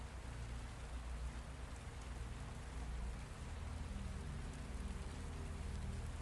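Steady rain falls on a swamp at night, a soft, even hiss with a low rumbling undertone that holds constant throughout, with no voices.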